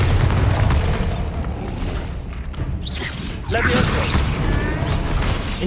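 A Bombarda spell explosion in the video game Hogwarts Legacy, a dense booming burst with rumbling low end and crackling debris, followed by a second swelling blast; game noise fills the background.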